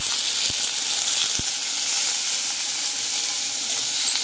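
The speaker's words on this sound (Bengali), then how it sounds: "তো ভালো করে লাল লাল করে বেশ ভেজে নিলাম।" Chopped onions and slit green chillies fry in hot oil in a pan, giving a loud, steady close sizzle with two faint taps against the pan early on.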